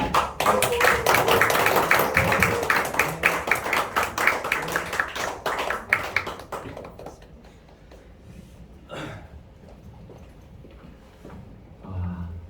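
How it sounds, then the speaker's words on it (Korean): A small audience at a company gathering claps in brisk, scattered applause for several seconds to welcome the group chairman, then it fades to quiet room tone with a few stray claps. "큰 박수로 모시겠습니다."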